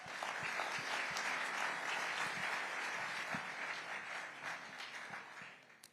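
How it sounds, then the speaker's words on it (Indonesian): Audience applause rising to a dense, steady clapping that carries on for several seconds before thinning toward the end. "Dan saya pikir kalian berdua benar-benar pantas mendapatkan tepuk tangan yang meriah."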